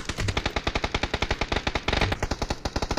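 Rapid automatic gunfire in PUBG on the Erangel map, a steady loud burst of closely spaced shots running continuously with a brief shift in tone midway.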